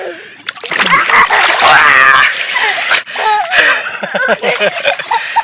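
A father and son bathe in the Meghna river with diving and thrashing in the water, giving loud, close, repeated splashes mixed with laughter and excited voices.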